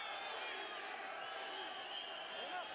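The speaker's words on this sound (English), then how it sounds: "Crowd chanting, Danny, Danny." Boxing arena crowd during a Danny Romero vs Roberto Lopez fight, a dense, distant roar of many voices that holds steady throughout, with a commentator's voice faintly over it.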